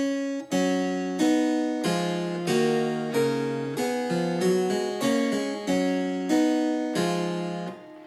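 A Bach keyboard piece played in reverse: each note swells up from silence and stops abruptly, giving a regular pulse of backward chords and melody lines, close and clear with no talking.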